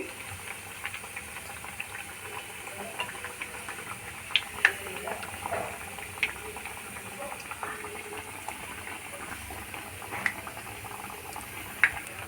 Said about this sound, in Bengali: পরের ব্যাচটাও ঠিক এইভাবেই ভেজে নেব আলু গাজরের পাকোড়া